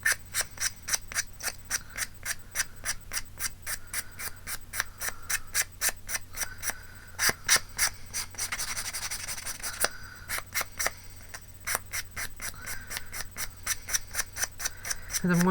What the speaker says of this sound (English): And I'm just going to ever so slightly sand them down a wee bit.